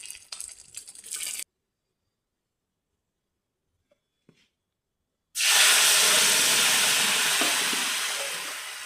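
A curry leaf and tomato mixture for egg curry sizzles in a pan, with a short hiss, then near silence, then a loud, sustained frying and bubbling sizzle that slowly fades.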